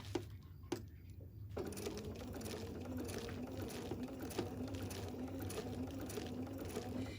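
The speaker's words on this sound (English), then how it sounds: "stitch a pretty little top stitch on here" A sewing machine top stitching a project bag runs in a steady, even whir after a couple of soft clicks, fairly quiet and close, with no talking.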